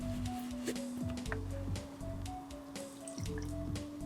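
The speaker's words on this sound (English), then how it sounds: "next we're gonna add in the wet ingredients to the dry ingredients." Wet ingredients are poured into the dry ingredients for high-protein peanut butter chocolate chip cookies, with faint, soft drips and trickles over several seconds and no talking.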